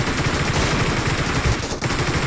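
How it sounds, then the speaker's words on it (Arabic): Rapid automatic gunfire in the PUBG video game rattles in a dense, loud continuous burst, with a brief dip before it resumes. "في ضرب من بعيد"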